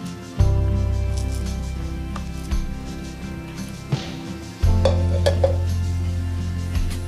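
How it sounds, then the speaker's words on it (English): Fiadoe dough for a Surinamese fruit cake, with soft butter and milk in it, is stirred in a bowl. Two long, close stretches of steady scraping and swishing are split by a short pause, with small clinks of the spoon against the bowl. "I will stir it until a dough"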